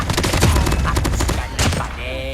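Rapid bursts of gunfire from a Type 25 rifle in a battle royale video game crackle densely and loudly throughout, with thuds and a player's voice faintly underneath.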